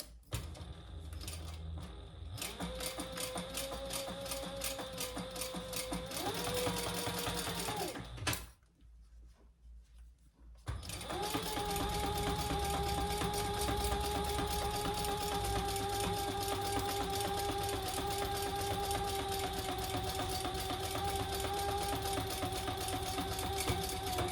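A sewing machine top stitches an eyeglass case in long steady runs of rapid mechanical whirring and clicking, stopping briefly partway through before resuming at an even pace.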